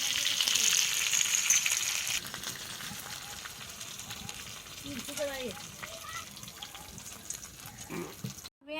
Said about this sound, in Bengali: আমি সব শিক কাবাবগুলো সেঁকে নেব।